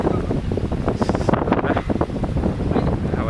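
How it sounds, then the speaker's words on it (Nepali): Strong wind gusts buffet the microphone at a railed hilltop viewpoint at Kanchangadi, with a steady loud rumble throughout. "हावा चलिरहेको छ"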